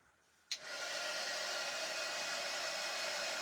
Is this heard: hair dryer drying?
yes